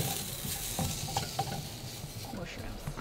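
Onions and mushrooms sizzle and fry in a frying pan inside a VW California T6 camper van, a close steady crackle with scattered scrapes and clicks as they are stirred.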